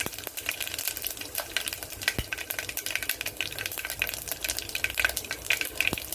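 Mustard seeds and cumin crackle and sizzle in hot oil for tomato rasam, a dense, fairly quiet spattering with sharp pops scattered throughout and no talking.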